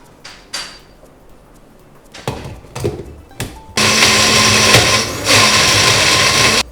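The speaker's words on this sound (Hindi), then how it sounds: "मुझे ये गाजर का जो मिश्रण है इसे पीसना पड़ेगा" A few light taps and clatters as a mixer grinder is readied, then the motor starts loud and steady, grinding a carrot mixture for carrot ginger soup with a brief dip in pitch partway through.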